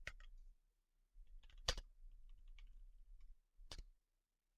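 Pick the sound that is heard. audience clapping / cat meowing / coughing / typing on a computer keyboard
typing on a computer keyboard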